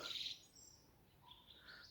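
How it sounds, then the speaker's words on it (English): Birds sing at dusk in a Nottinghamshire woodland, Treswell Wood, in late April: a brief burst of chirping up close, then faint, thin calls scattered in the distance over quiet ambience. "The birds are having their final song on what's been an absolutely beautiful day."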